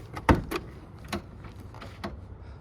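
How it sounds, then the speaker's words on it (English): A 1998 Land Rover Defender 110 door opens and shuts in a few sharp, close mechanical clunks and latch clicks, spaced out over a quiet interior. "And doors work perfectly."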